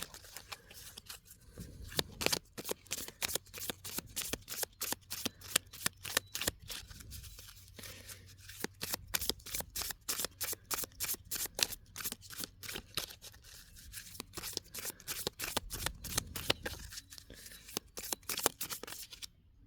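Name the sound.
oracle cards being shuffled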